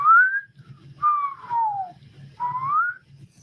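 A person whistles three sliding tones, the first rising, the second falling, the third rising again, clear and close with faint low background rumble between phrases.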